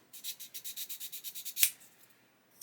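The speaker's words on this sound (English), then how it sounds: "So we can grab a sanding stick and just..." A quick series of about a dozen rhythmic scratchy strokes of a sanding stick rubbing tweezers clean, close and faint, ending with a small sharp click and a brief final scrape.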